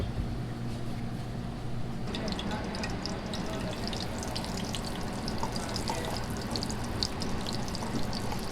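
Swordfish sears in a hot frying pan with a steady sizzle and spitting crackle that grows busier partway through, close and fairly loud.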